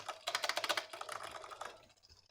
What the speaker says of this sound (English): I'm actually going to reset and just test my keyboard